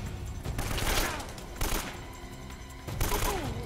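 Gunfire in Uncharted: Drake's Fortune, loud repeated bursts of shots in several volleys, close and dense, with brief gaps between clusters.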